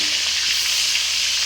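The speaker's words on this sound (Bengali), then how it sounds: "তেল গরম হয়ে গেছে, তেলের ভিতর ছেড়ে দিই এবার" Two fish sizzle loudly in hot oil in a pan, a dense, even crackle heard up close and alone.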